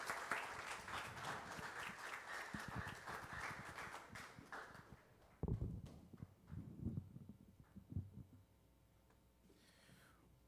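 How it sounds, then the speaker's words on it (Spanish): Audience applause for a Salvadoran jazz group at a Panama jazz event, a full burst of clapping that thins after a few seconds into scattered claps and small knocks, then fades out. "Un fuerte aplauso para ellos"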